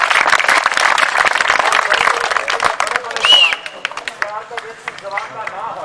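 Children in a crowd at a Punjabi street magic and snake show clap in a dense, loud burst that fades into scattered claps, with voices talking over it.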